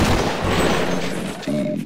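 Gunfire rattles in the video game Sven Co-op, loud rapid shots in a dense burst with a short pause near the end, close and sustained, with no voices over it.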